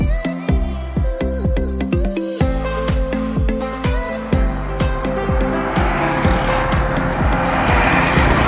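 A Bajaj Pulsar motorcycle engine revs repeatedly in quick rising pulses, then settles into a louder sustained drone with rushing wind noise as it rides off, close and loud.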